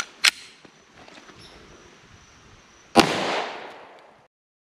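Two sharp gunshots fired with Buffalo Bore ammunition into watermelons outdoors, a close crack near the start and a louder blast about three seconds later with a rolling echo that fades out.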